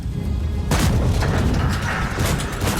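Tank cannon fire booms in a video game battle at an old harbour, a heavy blast rolling over continuous rumbling engine noise.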